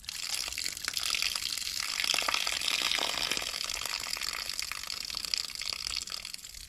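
Water pours steadily from a hose or tap into a container holding mashed eggplant seeds for seed saving. The flow is a continuous close gush, and no one talks.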